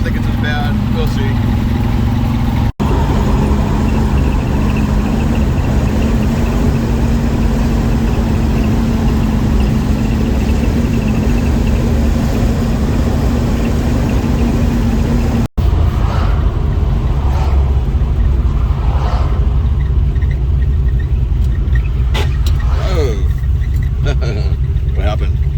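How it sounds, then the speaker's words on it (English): Car engine rumbling and given some throttle while stopped in a street, a loud, low continuous drone close by, with people talking over it. "Give it a little bit of throttle."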